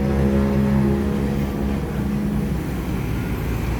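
A Sumatra bus roars past at speed, its loud, droning engine holding steady and close before easing slightly, with no talking.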